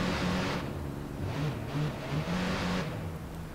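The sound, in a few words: Cavale car engine revving in video game Watch Dogs 2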